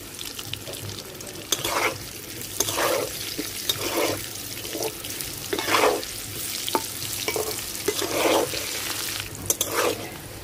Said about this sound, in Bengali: আলু লাল লাল করে ভাজা নিছি